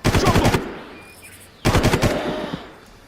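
Automatic gunfire from the video game Far Cry 1 comes in two loud, close bursts of rapid shots, each under a second long, separated by a brief lull with a faint ringing tail.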